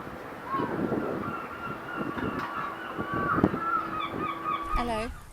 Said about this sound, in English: There are so many seagulls swooping around my head